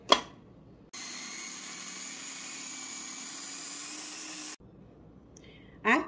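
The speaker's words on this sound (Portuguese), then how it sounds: "Então a gente vai bater esses ingredientes antes de colocar os demais" A blender whirs steadily for several seconds, blitzing homemade seasoning ingredients with olive oil into a paste, its motor a continuous even hum that starts and stops abruptly, with brief quiet moments before and after.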